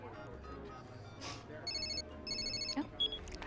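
A cell phone rings after being called, giving two bursts of electronic ringtone under low background sound and brief talk.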